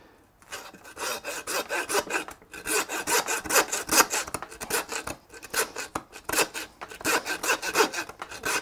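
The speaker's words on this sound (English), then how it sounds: "You hear the noise as soon as it went through the bone, it stopped, so just stop sawing." A hand saw rasps through lamb bone during butchery, with steady back-and-forth strokes in a close, continuous grinding rhythm and brief pauses between bursts of sawing.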